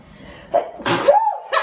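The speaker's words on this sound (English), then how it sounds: "I was going to sneeze" A single close sneeze bursts out with a sharp intake and explosive release, followed by a short voiced tail and a brief breathy sound.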